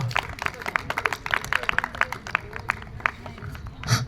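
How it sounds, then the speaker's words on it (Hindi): Scattered claps and crowd noise at an open mic event, fairly sparse, with a louder burst near the end. "जोरदार तालियों से स्वागत करेंगे इनका"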